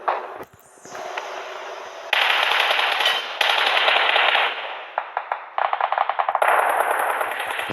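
Automatic gunfire rattles in PUBG Mobile, loud sustained bursts broken by short gaps and a few sharp single shots, with no voices.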